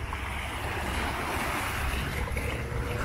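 Ocean waves wash onto the rocky shore at Kannonzaki, a steady broadband surf roar mixed with wind buffeting the microphone, continuous and fairly loud, with no talk.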